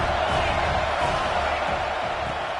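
A home stadium crowd in a football video game keeps up a steady, dense roar, with faint commentary-like voices underneath.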